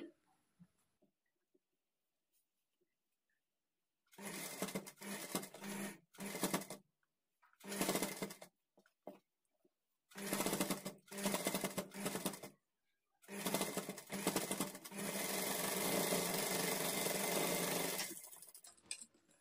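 A sewing machine stitches frills onto puff sleeves, running close in short stop-start bursts and then one long steady run near the end, with no voices.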